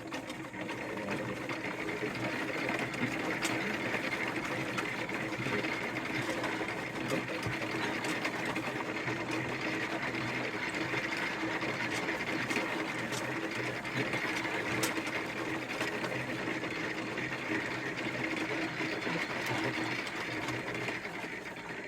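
Fruit crusher breaking up apples for cider, with finer teeth than a grape crusher; a steady, continuous mechanical grinding and rattling churns at a constant, fairly loud level throughout.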